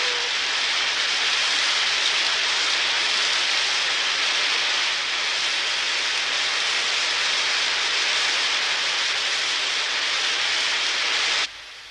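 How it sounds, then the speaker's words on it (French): Rain falls in a steady, dense hiss without a break, loud and even until it drops off sharply near the end. "Oh, j'ai pas peur de la pluie."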